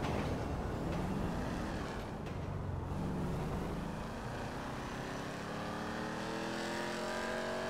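A car engine in the video game GTA 5 revs and climbs in pitch, a steady loud roar rising toward the end, with no talking.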